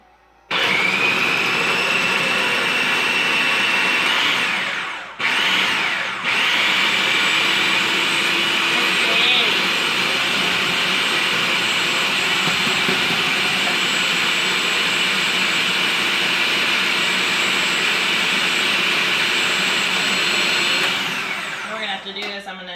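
A large food processor purées cooked beets for gnocchi with a loud, steady motor whir that starts abruptly, dips briefly, then runs on and cuts off near the end.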